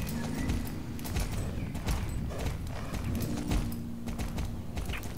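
Steady clip-clop of horse hooves in the video game Star Stable, a continuous trotting rhythm with a low hum underneath and no talking.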